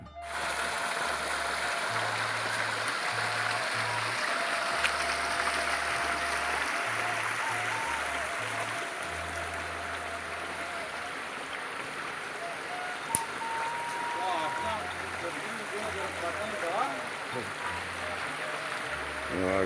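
River water flows steadily at a low-water crossing, a soft continuous rushing wash heard alone for the whole stretch with a few faint clicks.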